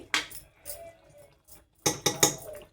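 Metal lid set down on a pot of mixed vegetables cooking on a stove, a few sharp clanks and clinks close by, with quieter scraping between them.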